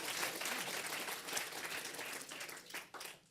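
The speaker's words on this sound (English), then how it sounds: "Big round of applause." A brief burst of audience clapping after a fireside chat at a marketing conference, faint and a little uneven, fading toward the close.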